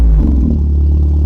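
An Audi TT running through a custom quad exhaust with the valves open gives a loud, close, deep engine burble with a slight rev blip near the start and then a steady rumble.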